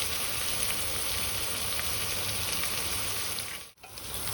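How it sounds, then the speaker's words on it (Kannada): Onions frying in a pan with half a teaspoon of salt for a chicken curry, a steady dense sizzle and crackle that holds throughout and briefly dips near the end. "ಗೋಲ್ಡನ್ ಬ್ರೌನ್ ಆಗೋವರೆಗೆ ನಾನು ಆನಿಯನ್ ಫ್ರೈ ಮಾಡ್ಕೋತಾ ಇದ್ದೀನಿ"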